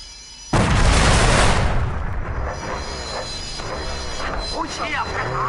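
A hand grenade goes off in an action movie battle scene, one loud close blast with a long rumbling roar that slowly decays beneath shouting voices.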